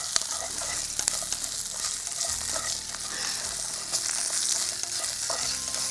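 Pepper and cumin sautéing in a pan for a dosa preparation give off a steady, close crackling sizzle with occasional stirring scrapes, and no one speaks.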